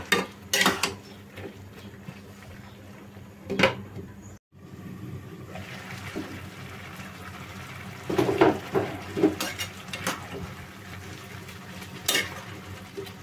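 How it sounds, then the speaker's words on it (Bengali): Eggplant pieces go into a pot of simmering vegetables, followed by scattered scrapes and clanks of a spoon stirring against the pot and a lid being set back on, over a faint background sizzle. "এখানে বেগুন দিয়ে দিচ্ছি কতগুলা, দিয়ে নাড়িয়ে আবার ঢেকে দিব।"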